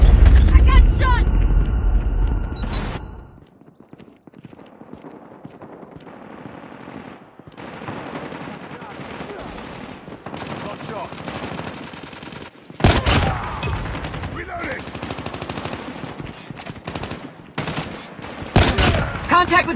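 Gunfire in the mobile shooter Call of Duty Mobile: rapid automatic bursts, loud at the start, then quieter sustained shooting and heavier bursts near the end, under speech and game voice lines.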